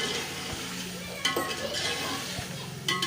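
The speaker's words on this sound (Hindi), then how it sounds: "पाँच से 10 मिनट तक इन्हें भूनते रहेंगे" Tomatoes and green chillies frying with dry spices in a pot, a constant close sizzle with occasional metal spoon scrapes and clinks against the pot.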